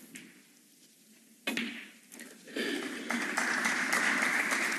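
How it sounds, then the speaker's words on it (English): Snooker match crowd at the 2018 German Masters breaking into applause for frame ball, the clapping starting sharply after a quiet moment, swelling in waves and building to sustained loud applause. "Applause for frame ball."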